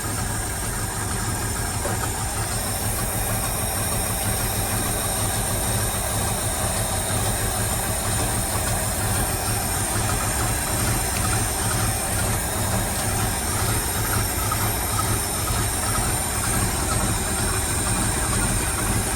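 A 1979 Ford F700 dump truck with a swapped-in 12v Cummins diesel idles close by, a steady, loud, rough, vibrating drone that holds unchanged throughout.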